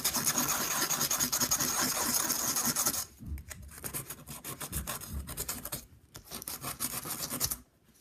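Rasping, continuous sanding of a homemade penny stove, with steady strokes for several seconds that then break into shorter scrubbing bursts with brief pauses, close and fairly loud, with no voice.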